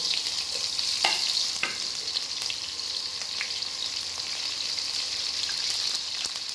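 Sliced onions frying in oil at medium flame, a dense steady sizzle with a few sharp pops and taps from the pan early on, close and continuous with no voices.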